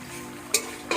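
Prawns cooking in a masala for village-style prawn malaikari, made without coconut milk, are stirred in a frying pan over a soft sizzle, with two brief scraping strokes of a spatula.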